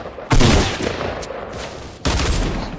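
Assault rifle fire in a shooter video game: two loud, close bursts of rapid shots, the first longer and the second starting just before the end, with no talking.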